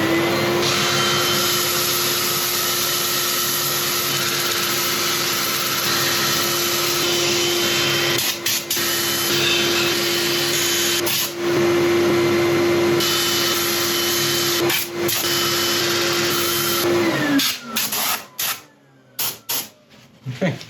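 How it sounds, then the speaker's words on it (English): A turned apple wood piece is sanded on a lathe, with a loud steady whirring motor hum and an abrasive hiss, constant for most of the time before the machine winds down and stops near the end. "I'm going to set it for sanding"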